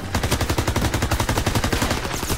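Call of Duty WW2 gunfire: a loud, close, sustained burst of rapid automatic fire with evenly spaced rattling shots throughout.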